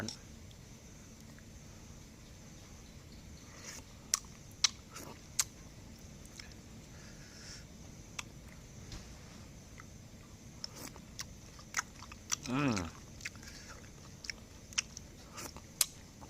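Someone eats spicy stir-fried rat meat, producing faint, scattered wet chewing clicks and smacks over a quiet room, with a brief voice murmur partway through.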